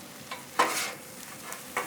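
Smoked pork belly fried rice stirred on a Blackstone 22-inch griddle, with a soft steady sizzle broken by a few brief scraping stirs, close and fairly quiet.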